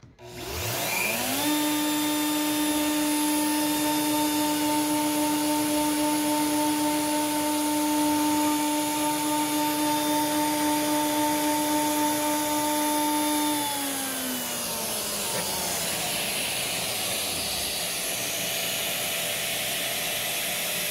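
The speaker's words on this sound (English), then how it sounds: "okay it's gonna start drilling over here fan's gonna turn on" A Stepcraft M.1000 CNC machine whines with steady tonal drones while drilling, with a broadband fan rush for about fourteen seconds, then the pitch sweeps down as it winds off, leaving fan noise.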